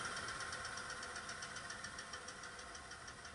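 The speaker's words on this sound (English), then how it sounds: "I'm going to get that put on my lathe and get this thing spinning." Wood lathe spinning a crab apple bowl blank at about 214 RPM, a steady continuous whir with a faint rhythmic knock repeating throughout, loud and unbroken with no talk.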